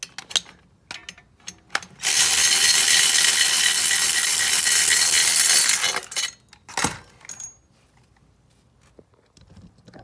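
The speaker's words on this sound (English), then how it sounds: "So let's get this last bolt out and see if this swing arm comes off." A ratchet spins out the last swing arm bolt on an Aprilia Atlantic 500 scooter: a loud, close, continuous ratcheting rattle of about four seconds, with scattered metallic clicks and clinks before and after.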